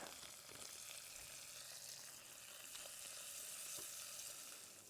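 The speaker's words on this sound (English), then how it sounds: "That butter will brown a little bit, and that tastes even better. In goes the sausage." Sausage sizzles in browning butter with garlic in a pan at a camp cooking spot, a steady, soft frying hiss that continues throughout.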